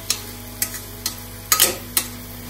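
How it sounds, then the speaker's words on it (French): Cooked shrimp and drained vermicelli are stirred together in a pan, giving five sharp scraping clacks spaced about half a second apart, close and clear over a faint steady background. "Et on mélange bien."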